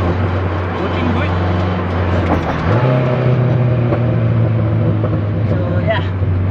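A Toyota KE70 engine running while the car is driven, a steady low drone that rises in pitch midway as the engine revs up, heard from inside the car with a voice talking over it.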